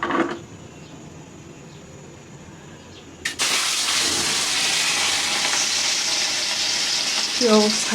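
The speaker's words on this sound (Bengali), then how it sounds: "কড়াই এখন আমি মাছ এবং কাঁকরোল একসাথে দিয়ে দিব।" Rohu fish and teasel gourd dropped together into a wok of overheated oil burst into a loud, sudden sizzle after a quiet lull, then keep frying in a steady roar of spitting oil, with a short voice near the end.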